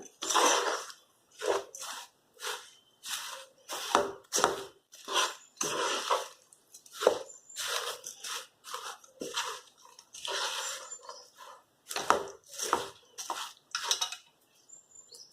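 Dry fruits are stirred into jaggery in a pan, producing repeated close crunchy scraping strokes in an uneven rhythm with short pauses between them, with no talking.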